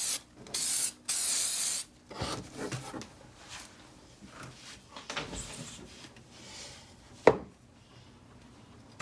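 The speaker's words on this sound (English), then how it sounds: "I'm just spraying the whole thing, so this whole thing will get sealed." Sealant from an aerosol spray can comes out in short loud hissing bursts. Two strong sprays are followed by softer spritzes and a sharp click near the end, with quiet handling noises in between.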